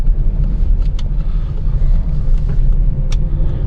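Steady engine and drivetrain rumble from a 2021 Ford Explorer Platinum AWD as its transmission downshifts while driving, a constant low drone with light wind noise and no speech.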